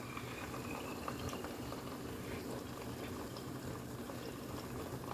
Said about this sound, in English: you just need to dump the whole egg in the butter